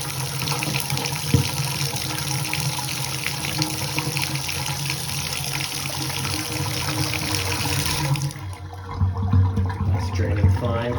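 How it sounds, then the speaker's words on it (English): Water rushing and draining steadily through an apartment sink drain, a dense continuous gurgling wash that shifts in tone near the end as the flow changes. "Sounds like it's draining."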